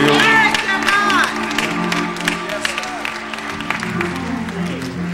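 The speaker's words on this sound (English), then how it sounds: "let's give the Lord a hand clap of praise in this building" A church congregation claps in praise during a worship service, with loud dense applause and vocal cries at first, then quieter scattered clapping under voices and a speaker.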